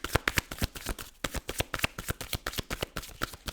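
Tarot cards are shuffled by hand in a quick, crisp rhythm of soft riffling taps and flicks, close and fairly quiet, with no talk.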